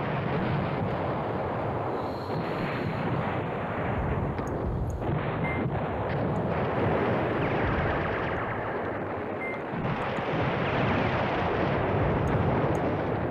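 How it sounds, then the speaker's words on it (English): Continuous rumbling artillery fire and explosions from the wargame Command Ops 2, a dense, loud barrage of booms layered over one another for the whole stretch, with no speech. "keep bombing, keep that artillery going"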